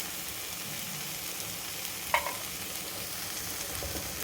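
Coriander powder is stirred into a simmering dal curry in a pot, a soft, steady sizzle with a single sharp clink of the spoon partway through, close by and quiet.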